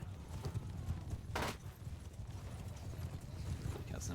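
Cavalry horses gallop in Mount & Blade II: Bannerlord, a quick run of hoof clip-clops with a sharp burst of battle noise partway through, moderately close and without speech.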